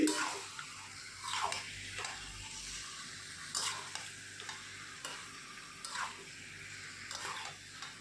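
Goat meat is stirred and fried down in a pan with a metal spatula, giving a steady sizzle broken by repeated scraping strokes at close range, with no voices.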